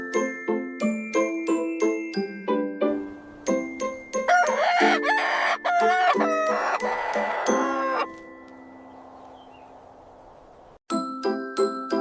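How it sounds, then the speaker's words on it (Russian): A rooster crows several times in the middle of the clip over a bright children's melody with chiming bells, followed by softer clucking and a fading tail before the music returns. "Петух говорит кукареку."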